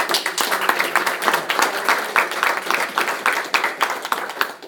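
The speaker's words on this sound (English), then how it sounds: "I want to give you all a round of applause" Applause from the audience at a sheriff's office investiture ceremony, a steady patter of many hands clapping close by for nearly five seconds with irregular sharp claps throughout.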